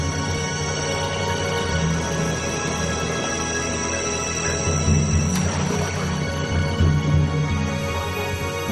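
A single far-off pygmy elephant call drifts through dense forest, a faint low rumble set against a constant wash of insect and jungle ambience with no voices.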